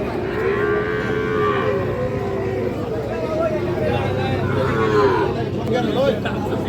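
A Sahiwal bull calf moos in long, drawn-out calls close by, over a busy background of people talking and murmuring at a cattle market.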